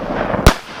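A single loud, sharp shotgun blast during a mallard duck hunt, one booming report over faint outdoor background.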